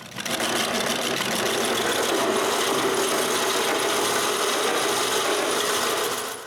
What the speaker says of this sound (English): Then I put that back on my makeshift lathe and turn the pulley around.